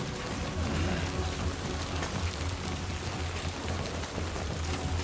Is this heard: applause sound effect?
no